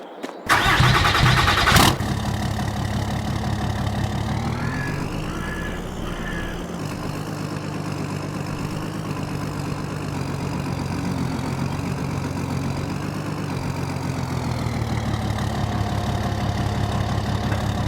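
A Farmall H tractor engine cranks briefly, then catches and settles into a steady, loud, rumbling idle that runs on alone.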